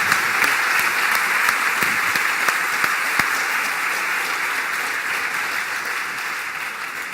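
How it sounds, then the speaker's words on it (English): An audience at a game theory conference applauds a panel of Nobel laureates, with full, even applause and a few sharp individual claps standing out, gradually tapering over several seconds. "big round of applause, please."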